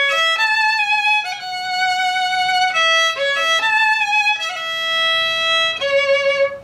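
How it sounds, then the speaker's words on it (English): Solo violin plays a melody with clean, steady held notes and no sliding between pitches, a continuous bowed line of several sustained notes with clear changes, close and loud with no voices. "So without glissando, it would sound like this."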